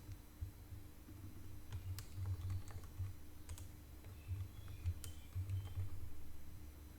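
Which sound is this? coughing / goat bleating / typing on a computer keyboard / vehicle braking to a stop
typing on a computer keyboard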